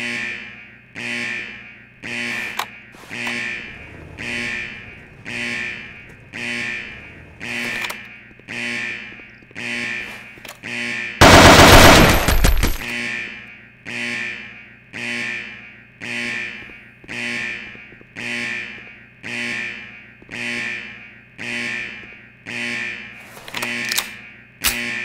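A planted bomb timer in an online shooter game beeps in a steady, regular rhythm, about one tone every second, with a brief burst of loud noise partway through before the beeping carries on.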